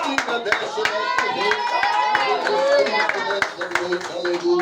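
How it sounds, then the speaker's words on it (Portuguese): Church congregation clapping in rhythm during a worship service, steady close claps under a loud voice talking over a continuous drone of voices and music. "Glorifica a Deus com as palmas mais uma vez"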